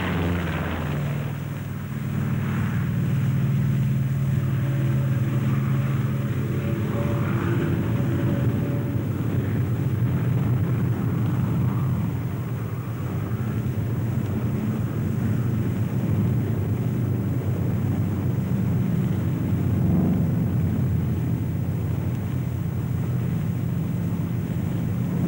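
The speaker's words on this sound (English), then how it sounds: "Throttle forward with a steady positive motion. You're flying your 47 down the runway." A P-47 Thunderbolt fighter's piston engine drones through a takeoff run down the runway, a continuous low rumbling roar with wind buffeting, steady and fairly loud throughout with no talking.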